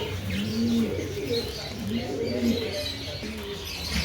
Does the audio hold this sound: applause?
no